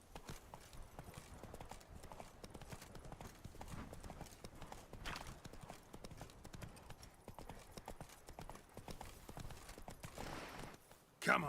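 A horse gallops in Witcher 3, with rapid steady hoofbeats running continuously under faint game ambience, ending in a brief louder burst.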